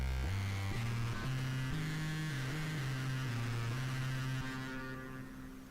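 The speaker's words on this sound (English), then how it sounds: "Distortion." Distorted guitar from a multi-effects unit's demo mode, a buzzy saturated line of sustained notes stepping through pitches, steady then fading at the end, with no voices.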